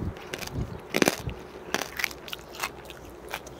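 Crunchy fried crab gangjeong, homemade whole crab with claws and shell, chewed close to the mic, giving loud crackling crushes early and then a run of sharp crunches that slowly fade.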